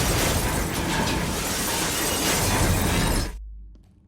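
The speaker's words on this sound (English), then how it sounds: "do you remember the train exploding?" In a Call of Duty zombies game, a train explodes with a loud, sustained roar of blasting and shattering debris that cuts off abruptly into near silence, leaving a low rumble tail.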